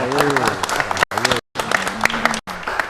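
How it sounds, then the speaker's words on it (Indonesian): An audience at a Javanese culture gathering claps for Ki Subarto Baroto, a moderately loud patter of many hands mixed with voices and broken by two brief drop-outs into silence. "Tepuk tangan untuk beliau"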